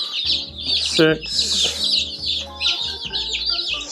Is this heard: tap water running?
no